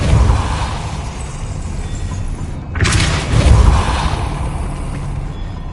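Depulso force spell striking in Hogwarts Legacy: a sharp whooshing hit partway through cuts across a low game rumble, followed by a heavier booming thud that slowly fades.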